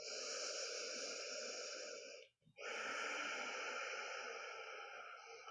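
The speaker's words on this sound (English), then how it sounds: "take some nice, long, smooth, deep breaths here." Long, smooth, deep yoga breaths come close to the microphone as a drawn-out breathy rush, a brief pause between inhale and exhale, then another long airy stream.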